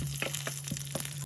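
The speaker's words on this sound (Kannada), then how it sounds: "ಆಮೇಲೆ ಹಸಿಮೆಣಸಿನ್ಕಾಯಿ, ಕರಿಬೇವು ಸೊಪ್ಪು, ಇದನ್ನು ಸ್ವಲ್ಪ ಚೆನ್ನಾಗಿ ಫ್ರೈ ಆಗಬೇಕು." Green chillies and curry leaves fry in hot oil for a dhokla tempering, a loud, dense crackle with quick spitting bursts and a steady low hum underneath.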